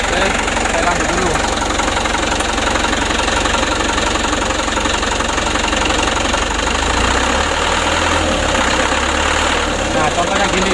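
A diesel engine fitted with a Bosch injection pump idles under light throttle, knocking steadily and vibrating, with the engine note dipping slightly toward the end.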